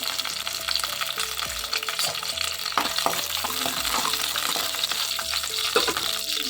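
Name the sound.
green chillies and garlic frying in hot oil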